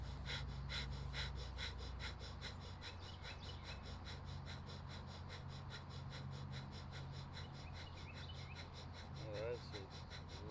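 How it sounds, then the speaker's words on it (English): Breath of fire, a rapid yogic breathing exercise: quick, evenly spaced, forceful breaths pulse in a fast rhythm, faint and close, across the whole stretch. "And I'm going to begin breath of fire."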